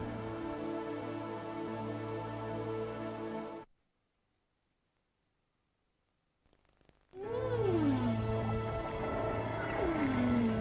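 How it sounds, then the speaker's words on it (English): Humpback whale calling deep in the ocean: long moaning tones and sweeping upward-then-downward wails, loud and resonant, broken by a few seconds of near silence before the song resumes. "This is the legendary call of the humpback whale"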